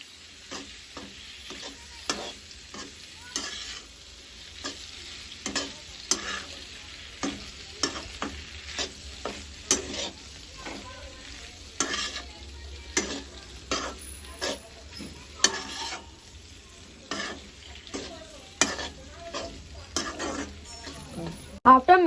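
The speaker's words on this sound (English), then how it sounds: "After mixing properly, now add some pasta" Pasta being stirred and mixed in a pan, with repeated scraping and clinking of a utensil against the pan over a low sizzle, in an irregular rhythm close by.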